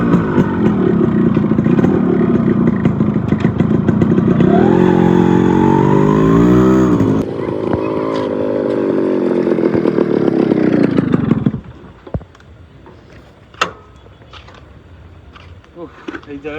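A motorcycle carrying two riders roars close by, its engine droning loud and steady before the pitch rises and wavers, then cuts away after about eleven seconds to quieter road ambience broken by a few sharp clicks.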